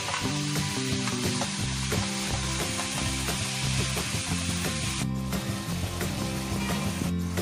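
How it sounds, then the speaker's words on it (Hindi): Mushrooms sizzling as they cook in a pan for mushroom methi malai, a loud continuous sizzle with rhythmic stirring scrapes and a steady hum underneath, close up. "मशरूम्स को हम अच्छे से कुक कर लेंगे।"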